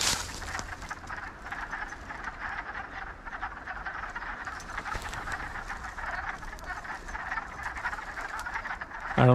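A dense chorus of spring peepers calling steadily in a lowland wetland, many frogs overlapping in a continuous shrill chirping that carries from some distance and stays constant throughout, with no talk.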